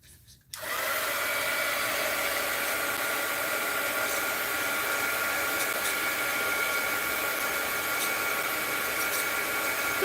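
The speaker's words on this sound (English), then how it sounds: "Sorry for the heat gun getting in the way." A heat gun blows hot air while drying mixed-media art journal work, starting abruptly after a brief quiet moment and then holding a loud, steady, broadband whoosh for the rest of the clip with no talking.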